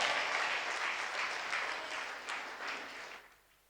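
Congregation applauding during a Sunday church service, full steady clapping that gradually thins and fades out near the end.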